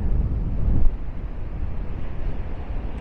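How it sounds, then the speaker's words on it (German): Strong wind roars across a beach in Maspalomas, Gran Canaria, as sand blows, giving a steady low rumbling buffet against the microphone with a gust near the start. "Und klar hat das was mit dem Wind zu tun und der wird stärker"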